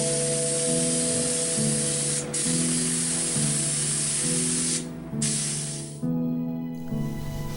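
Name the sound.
spray painting sculpture with 2K car body paint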